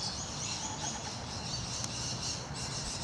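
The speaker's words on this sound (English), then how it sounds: "I can hear some rainbow lorikeets." Outdoor morning birdsong in a street with scattered squawks and chirps from rainbow lorikeets, steady and moderately distant over a hiss of insects and ambient noise.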